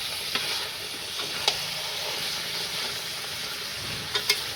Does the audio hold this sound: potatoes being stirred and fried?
yes